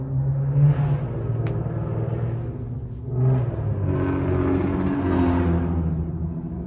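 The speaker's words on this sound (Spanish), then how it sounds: "El carro." A car passes by outdoors as a low rumbling swell that rises, fades briefly and then swells again, moderately faint and with no voices.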